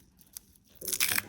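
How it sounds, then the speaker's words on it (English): Adhesive tape handled and pressed into place, a quiet rustle and then a short burst of crinkling, tearing crackle up close, with no talking. "Just gonna go ahead and grab this tape, place it right here"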